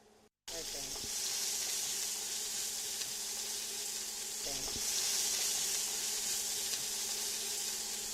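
Steady oil sizzle of crushed shallots frying in a pan, continuous and fairly close, with a few soft clinks of a utensil stirring.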